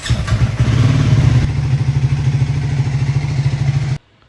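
Motorcycle engine idling close by after a cold start, a loud, steady, rhythmic chugging that cuts off abruptly near the end.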